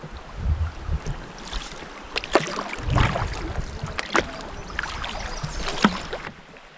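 Canoe paddles splash and knock in irregular strokes on the Gasconade River, close and fairly loud over gusting wind and flowing water.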